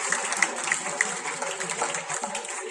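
Audience applause at a school career education event, a dense steady patter of many hands clapping at moderate distance, continuous throughout with faint voices mixed in.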